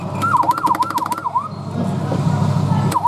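Siren sound effect from a Falgas 4S fire truck kiddie ride: a rapid, repeating electronic warble cycling several times, then fading out, with a final short chirp near the end, loud and close over a low background hum.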